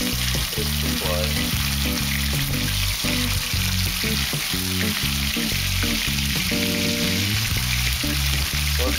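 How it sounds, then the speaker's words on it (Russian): Meat chops fry loudly in very hot oil in a pan, a dense continuous sizzle and crackle with no voices present. "Отбивные жарятся на очень раскаленной сковородке"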